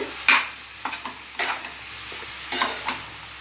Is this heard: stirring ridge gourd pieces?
yes